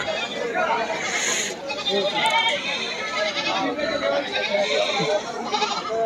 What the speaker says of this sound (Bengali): এখানে এই যে মা ছাগল সহ 3টা ছাগল দেখতে পাচ্ছি